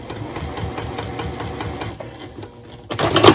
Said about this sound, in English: so we're going to stitch this line between the 1 and the 2